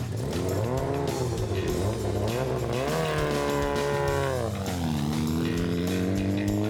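A motorcycle makes a drag racing license pass, its engine screaming loud and close as the pitch rises through gear changes in one continuous run.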